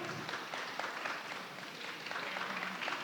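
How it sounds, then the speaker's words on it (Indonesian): Applause from the audience for panelists at a creative economy forum, a soft, fairly distant and even patter of many hands clapping throughout, with no talk over it. "Tepuk tangan dulu dong buat panel-panel kita."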